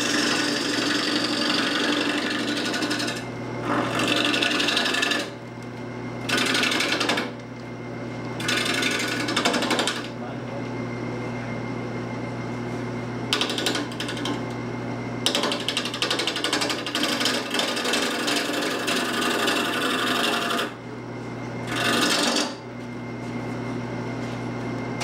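Wooden teapot turning on a lathe: a constant low motor hum under bursts of scraping, rasping tool-on-wood cutting that start and stop repeatedly across the stretch.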